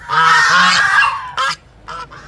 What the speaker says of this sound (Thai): มีห่านด้วยเห็นคนแล้วก็ทักทายนะครับ